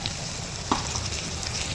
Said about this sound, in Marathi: कांदा परतला की ह्याच्यामध्ये टोमॅटो टाकायचा